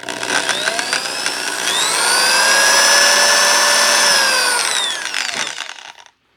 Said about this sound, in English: I'm going to drill the rest of these